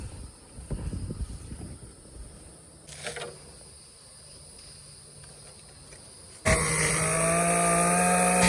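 A power saw cuts boards for a pasture fence. Quiet outdoors with insects chirping, a brief tool sound comes early, then the saw starts loud and close near the end and runs steadily.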